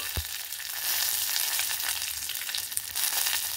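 Dried red chillies and curry leaves sizzle steadily in hot oil, a dense continuous crackle from start to finish, beginning with a brief thump as they drop into the pan.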